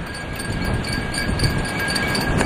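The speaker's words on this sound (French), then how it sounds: "le bruit des drapeaux qui tapent avec le vent c'est super chiant" Flags snapping and flapping in strong wind on Omaha Beach, a continuous loud rushing flutter with irregular slaps, close and unbroken, no voices.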